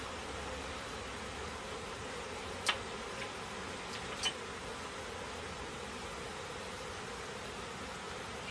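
Honeybees swarm around a beehive, making a faint, steady hum with two brief sharp clicks partway through.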